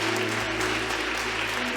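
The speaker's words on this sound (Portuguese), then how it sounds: "Você pode aplaudir bem forte ao Senhor." A church congregation applauding, a dense, steady wash of many hands clapping together under a low, constant hum, filling the whole short stretch without a pause.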